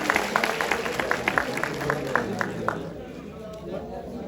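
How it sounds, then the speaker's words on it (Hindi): A rally crowd claps for a speaker taking the stage, a brisk burst of applause that thins out and dies away by the end, leaving a quieter hum of the gathering. "सिमरन जी के लिए जोरदार तालियां"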